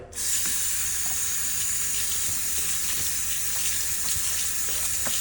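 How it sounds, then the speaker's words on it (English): Steady running water pours and hisses continuously, close by, as cold water from a tap soaks a rag, with no voices. "I'm just gonna soak this rag with cold water."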